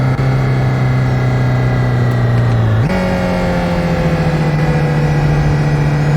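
Ford Transit van engine in Euro Truck Simulator 2 hums loudly and steadily, its droning pitch dropping slightly, then jumping up after a gear change and settling into a constant cruise tone, with no voices.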